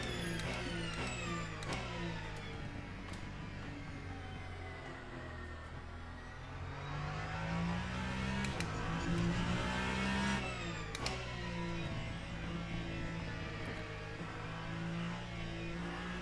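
A high-revving Ferrari hypercar engine in a Le Mans racing video game roars steadily throughout, with gear shifts and rising, falling pitch as it accelerates around a track.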